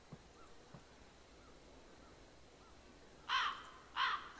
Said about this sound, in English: Funny crows, trying to scare me.